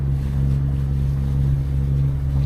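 A catamaran motoring on a single engine at 2800 revs, a steady low droning hum with a constant tone, heard close over wind and water noise, no voices.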